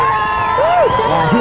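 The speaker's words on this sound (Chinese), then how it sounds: "掌声欢迎他" A studio audience on a variety show cheers and whoops, with rising shouted calls riding over continuous loud crowd noise, close and lively throughout.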